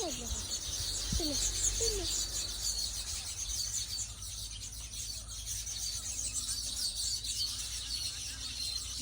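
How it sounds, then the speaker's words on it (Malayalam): Birds chirp and tweet in a short cluster early on, then fade under a steady outdoor hiss of high-pitched insect-like drone and low rumble for the rest of the stretch. "കിളികളുടെ കളകളനാദം"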